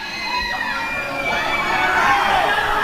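Wrestling crowd cheering and shouting at a live match, a dense, loud roar that swells toward the end, with voices mixed in.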